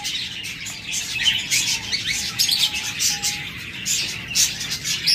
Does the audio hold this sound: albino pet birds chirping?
yes